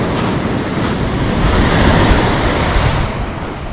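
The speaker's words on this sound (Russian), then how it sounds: "Тихо-тихо, спокойно, а потом бабах какие-нибудь волны сильные." Strong sea waves breaking on a sandy shore at Lazarevskoye, Sochi, at midday: a loud, close, continuous roar of surf that swells toward the middle and eases off again, with wind buffeting the microphone and no talking.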